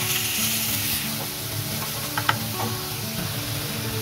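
Grated onion sizzles in two spoons of hot oil in a karahi, a loud, continuous close-up hiss broken by a couple of faint clicks from utensils, with no speech.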